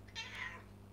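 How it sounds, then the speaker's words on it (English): A single short meow from a cat coming in through a cat flap indoors, soft and fairly close, heard alone over a low steady hum. "That's the cat just coming in the cat flap."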